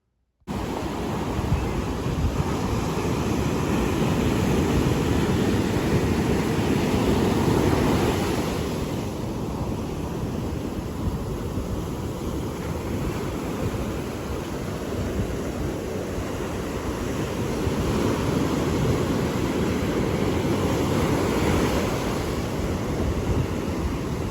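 Ocean waves wash steadily onto a beach in a continuous broad roar that swells and eases in long surges, with wind noise on the microphone and no voices.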